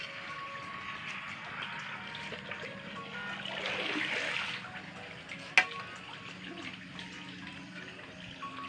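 Water runs and trickles steadily off freshly washed catfish-hatching gear, a soft continuous splashing that swells briefly, with a single sharp knock near the end.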